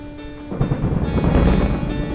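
A low rumble of thunder rolls in over steady, heavy rain at a wedding venue, loud and continuous throughout.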